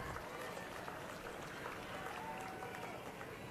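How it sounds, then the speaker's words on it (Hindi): Rally audience applause, a dense, even wash of many people clapping at a distance, steady and fairly quiet for the whole stretch, with no clear pauses. "तालियां एक बार जोरदार।"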